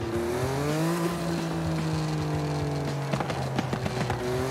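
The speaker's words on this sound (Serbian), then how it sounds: "A to je pucketanje auspuha." Engine of a BMW i8 in Forza Horizon 5 holds a steady, loud drone, and a run of sharp exhaust pops and crackles breaks through near the end.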